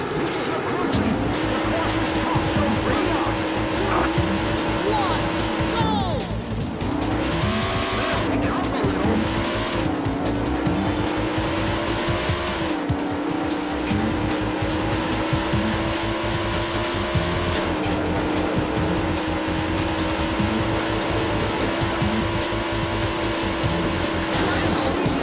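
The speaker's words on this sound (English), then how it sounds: "Gentlemen, start your engines!" Race cars roar in the arcade racing game Daytona USA 2, with a sustained loud engine drone, rising and dipping revs and tire squeals over the full stretch, several engines blending up close.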